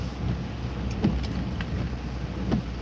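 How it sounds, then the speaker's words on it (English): Heavy rain falling during a nor'easter storm, a dense, steady hiss of downpour with a low rumbling undertone and a few faint thumps, continuous throughout with no voices. "So definitely getting heavier rain right here."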